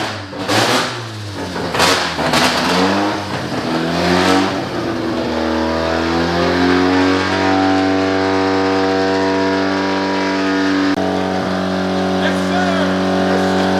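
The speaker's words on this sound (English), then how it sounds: "I love the car. It's brutally loud." A loud Mazda RX-7 FC engine revs hard several times in sharp bursts, then settles into a sustained, throbbing high idle, close and overpowering, with voices faintly beneath.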